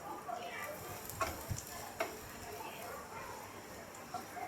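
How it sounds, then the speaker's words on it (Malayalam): Freshly grated coconut stirred with a spoon in a pan of hot ghee gives soft scraping and light sizzling, with occasional clicks of the utensil and a voice speaking quietly underneath. "ഒരു 2 മിനിറ്റ് ഒന്ന് നമുക്ക് ഇളക്കി കൊടുക്കാം."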